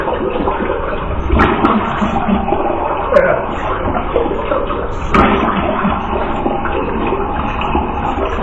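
Water runs steadily from a tap while a bathroom sink is cleaned, a constant broad hiss with a few faint clicks and knocks, fairly close and without talk.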